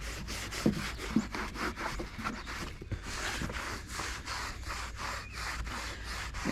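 A microfiber towel rubs back and forth over a surface in quick, regular strokes, close and fairly loud, a steady scrubbing rhythm with a few small knocks and no talking.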